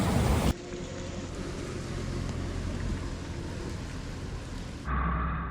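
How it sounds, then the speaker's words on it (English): Heavy rain pours down steadily during a bad thunderstorm, a loud, dense, unbroken hiss that holds for several seconds and then gives way to a different background, with no voices. "It has not stopped raining, and we're gonna stay here tonight."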